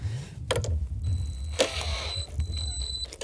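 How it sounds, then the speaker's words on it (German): A wrench works at the bolt of the rear roller on an Einhell GE-HM 18/38 cordless lawnmower, giving a few sharp close metallic ratchet clicks and clinks over a quiet background. "Und dann wieder mit dem Schraubenschlüssel rein."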